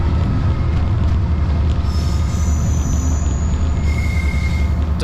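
A Class 59 freight locomotive pulls away from Acton with a steady, loud low rumble of engine and wheels, joined by faint high squeals of metal on rail partway through.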